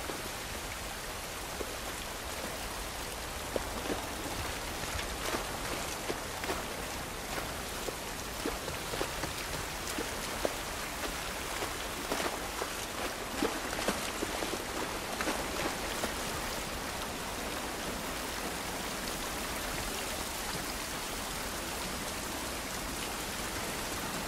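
Steady rain falls in the video game The Last of Us Part I, a continuous hiss of drops on surfaces with scattered small pattering taps and no voices.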